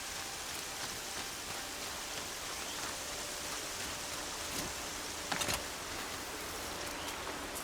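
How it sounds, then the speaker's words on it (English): Rainfall in the Nora Lands of Horizon Zero Dawn, a continuous soft patter and hiss with a few crisper drop hits standing out briefly, steady and fairly quiet. "it's raining quite a bit"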